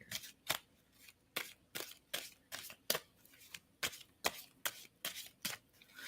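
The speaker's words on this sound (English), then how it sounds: "So I'm going to stop shuffling on that." Tarot cards are shuffled by hand in a quick, even rhythm, about a dozen crisp riffling snaps spaced roughly half a second apart, soft and close with no talking.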